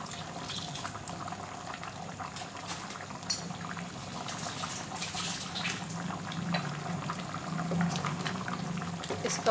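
Achaar gosht, meat cooked with lemon, simmers in a pot as its liquid cooks down, giving a continuous, close bubbling with small pops and occasional louder spits.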